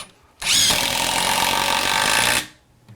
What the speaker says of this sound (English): Now we're in normal mode, which is going to be a high speed and high torque mode, ideal for everyday fasteners like this.